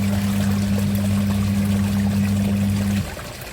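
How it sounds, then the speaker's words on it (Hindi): Water pouring into a Realme TechLife washing machine, a loud steady rushing stream with a constant low hum that cuts off near the end, leaving a quieter background. "तो तब तक ये पानी भी भरता रहेगा"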